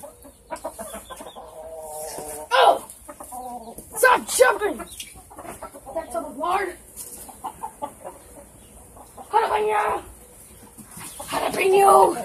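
Chickens cluck and squawk in short, agitated bursts during a chase to catch a rooster, with people talking and exclaiming nearby between the calls.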